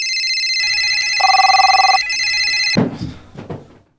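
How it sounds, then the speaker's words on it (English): A telephone rings with a steady electronic trill and a buzzing tone layered over it for a few seconds, then cuts off abruptly, followed by a couple of short thuds and handling sounds. "it won't stop ringing and won't stop buzzing."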